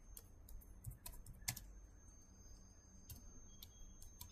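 Typing on a computer keyboard, quiet scattered key clicks in short irregular bursts, close and faint, with no talk over them.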